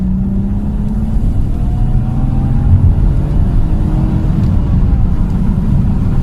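A 1993 BMW E36 320i accelerates on a town road, its engine droning and rising in pitch from inside the cabin, with steady road noise throughout.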